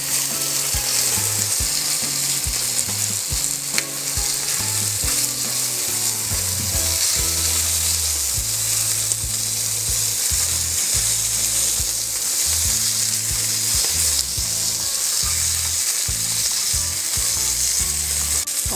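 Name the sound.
chicken inasal grilling after basting with chicken oil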